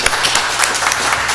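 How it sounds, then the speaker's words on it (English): A short, close burst of clapping from a small group of colleagues celebrating a coworker's birthday, brisk and uneven for about a second and a half. "Let's give him a round of applause."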